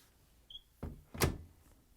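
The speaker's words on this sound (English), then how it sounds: "Close the door." A Frigidaire front-load washer door swings shut with a soft thud followed by a sharper latching thump, both close and otherwise quiet.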